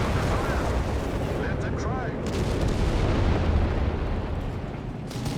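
Artillery barrages in the World War II strategy game Company of Heroes 3, a dense continuous rumble of booms and gunfire under a commentator's voice.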